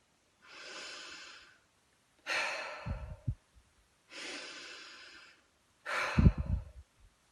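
Four deliberate breaths in a breathing-exercise demonstration, alternating a soft airy inhale with a heavier exhale that ends in a low rough rasp, slow and evenly spaced, close up and quiet, without any talking.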